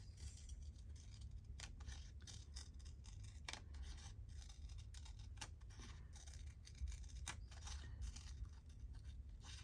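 Scissors cut a vintage book page to make large journal pockets: a steady series of crisp close snips and rustles at a quiet level, with no talking.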